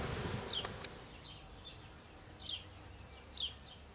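Honeybees buzz around an opened hive during requeening, a faint steady drone with individual bees whizzing past close by in several brief passes; no talking.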